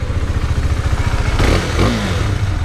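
A Husqvarna Svartpilen 401 motorcycle engine idles with a rough, throbbing low rumble, then revs briefly before settling back, close by.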